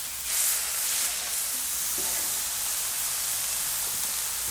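Prawns sizzling on a hot Weber Q griddle, a steady broad hiss of frying that holds at an even level throughout, close and alone with no voices.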